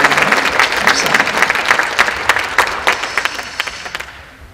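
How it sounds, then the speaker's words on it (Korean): A church congregation gives dense, sustained applause for educators, loud and close with many overlapping claps, tapering off toward the end with some scattered individual claps. "우리 교육자들 격려의 박수 해주시겠습니다"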